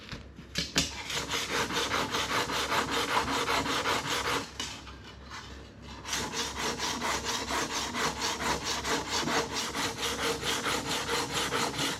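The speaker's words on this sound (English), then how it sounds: "So already on this we've been about 25 minutes just on sanding up the whole trim to locate all the little imperfections." Stainless steel trim moulding from a 1969 MGB is sanded by hand with steady, rapid back-and-forth rasping strokes. The sound is close and continuous, with a brief lighter stretch partway through.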